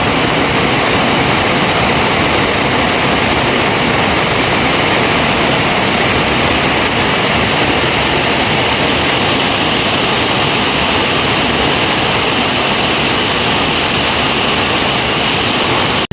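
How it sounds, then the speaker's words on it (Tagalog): Heavy rain pours down hard and steadily on a house roof, a loud, dense, unbroken roar of water that lasts throughout, with no voices. "sobrang lakas ng ulan, guys. Bumuhos."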